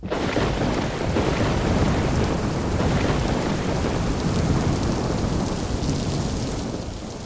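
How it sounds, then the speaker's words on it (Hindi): Heavy rain pours steadily with rumbling thunder on a street where no rickshaw will stop, a dense, loud, continuous wash of sound with no voices. "कोई रिक्शा भी नहीं रुक रहा है और ये बारिश भी हो गई है।"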